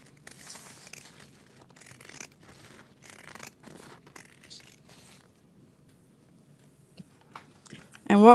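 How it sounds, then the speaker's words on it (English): Pinking shears snip through fabric while a bag lining is sewn, giving a series of short, crisp cutting crunches in uneven bursts, fairly close and moderately quiet, with a louder clatter at the very end. "I'm going to cut the excess down to 1/8 of an inch with pinking shears so that it doesn't fray over time"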